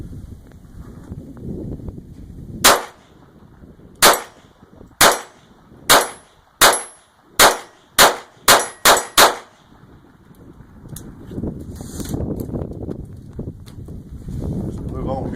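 Ruger SR22 pistol firing CCI standard velocity .22 ammunition at steel targets, nine loud sharp reports with ringing clangs, spaced at first then quickening into a rapid string, over outdoor wind noise.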